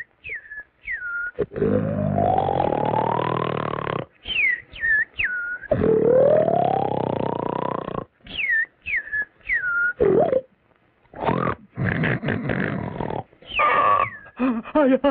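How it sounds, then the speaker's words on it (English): Cartoonish snoring: long rising inhaled snores alternate with quick high whistling squeaks on the exhale, repeating loudly in an exaggerated, comic rhythm. "I can't stand that snoring any longer"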